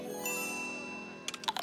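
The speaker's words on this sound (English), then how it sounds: "Oh, there's the bell." A school bell rings in an animated scene, a bright tinkling chime that sustains and then breaks into a few quick, ringing strikes near the end, fairly faint under music.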